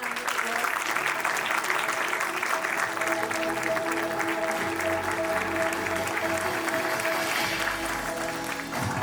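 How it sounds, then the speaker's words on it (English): Sustained, even applause from a hall audience at the inauguration of a scientific conference session. The clapping forms a continuous crowd texture for several seconds, with faint voices mixed in. "Please give a big round of applause."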